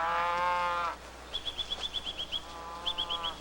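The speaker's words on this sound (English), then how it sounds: "the commotion of cattle being turned out to pasture beside the copse" A cow lets out a long, loud moo as cattle are turned out to pasture beside a copse in Hokkaido; after it a bird chirps in a quick repeated series, then another short run of chirps.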